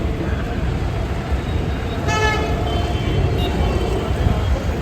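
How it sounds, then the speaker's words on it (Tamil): A single vehicle horn toots briefly and loudly amid the steady roar of traffic in the Lal Chowk market of Srinagar, and a fainter horn follows later. "ஹாரன் சவுண்ட் வேறு அதிகமாக கேட்குது."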